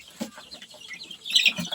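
KUB kampung chickens cluck softly in short, scattered calls, faint and close, with a slightly louder burst of clucking near the end and no talking.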